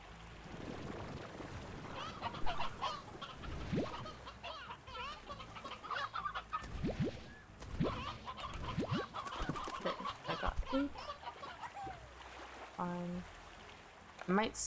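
Chickens cluck in a video game, with bird-like calls scattered through the stretch and a person talking steadily over them.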